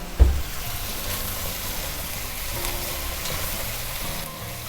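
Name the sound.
stirring blackened cod vegetable stew in pot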